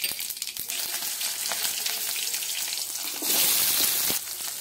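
Mustard seeds and cumin hit hot oil in a wok, crackling and sizzling steadily close by, with a louder burst of hissing near the end.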